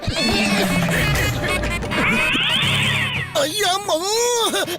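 Cats yowl and meow in drawn-out, bending cries during a fight, loud and close, mixed with scuffling crashes and a human voice talking over the commotion.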